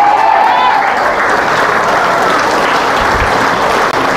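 Loud, dense applause from a church worship congregation fills the space steadily, with faint cheering or vocal tones early on and no clear break until the very end.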